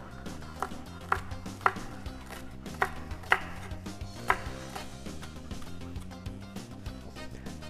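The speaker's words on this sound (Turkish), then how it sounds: "Artık taze soğanlarımı yine aynı şekilde doğramaya başlıyorum" A knife chopping spring onions on a cutting board, a handful of sharp, fairly quiet taps at an uneven pace.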